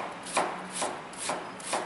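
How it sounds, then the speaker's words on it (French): A knife finely slices an onion on a cutting board for a small dice, with about four steady, evenly spaced strokes, close and clear, and no talking. "comme si on éminçait pour avoir donc un oignon ciselé et non haché."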